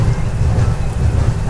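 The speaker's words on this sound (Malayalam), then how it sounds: "നല്ല മഴ." Heavy monsoon rain on the Mandovi Express along the Konkan Railway, a loud, steady wash of rain and train rumble with no break and no voices.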